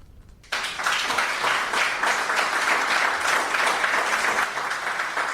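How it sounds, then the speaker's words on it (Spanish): Audience applause following a lecture at a maritime museum, bursting in abruptly after a near-silent moment and then holding as loud, dense, continuous clapping from a full room. "Aplausos merecidos, por tanto, para un ponente"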